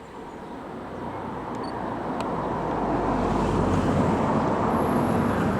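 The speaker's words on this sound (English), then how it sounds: "We're right on the bridge with cars behind us and the motorbike" Road traffic rolls across a bridge in the Yorkshire Dales, a broad rushing swell of passing vehicles that builds steadily louder as they approach, with no talk over it.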